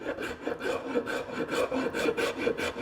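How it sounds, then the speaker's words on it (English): A heavy-duty half-round rasp shapes a roundover on a wooden chair part, making steady, rhythmic rasping strokes of about three per second, close and clear with no talk. "you can define this roundover with a good rasp"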